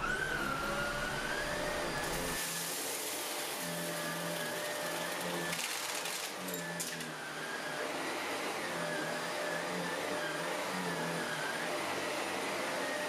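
A Shark Rotator Professional Lift Away vacuum cleaner runs on carpet and hardwood floors with a steady loud motor whine, its pitch wavering as it moves, with brief rattling bursts as debris is sucked up.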